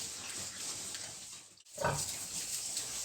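Low snuffling grunts from a sow eating close by, mixed with wet chewing and rustling, with a brief hush in the middle before the grunting resumes.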